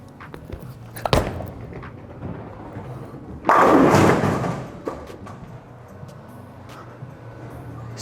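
A bowling ball lands with a dull thud on the lane, rolls, and a second later smashes into the pins in a loud, scattering crash that dies away into the hall's background hum.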